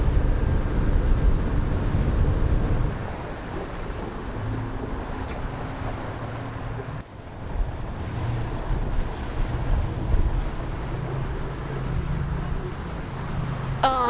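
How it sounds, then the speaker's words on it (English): Steady wind gusting over open water during an evening yacht club sailboat race, mixed with broad surf and wave wash and microphone buffeting, loud and continuous with a brief dip midway. "We've got some great breeze."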